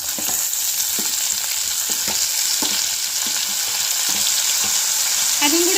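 Two medium chopped tomatoes sizzle loudly with a curry leaf mixture in a pan, a constant close frying hiss broken by repeated spoon scrapes and clicks as it is stirred, with no voices.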